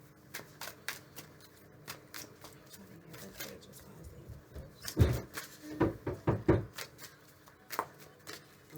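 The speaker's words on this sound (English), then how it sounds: "Got a knock at my door." A series of knocks on a home door, several sharp raps clustered in the middle after quieter handling and tapping noises at the start, fairly close and alone.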